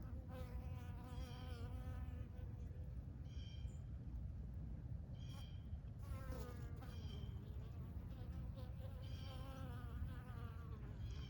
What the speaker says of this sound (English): There's another bee coming out with some parts,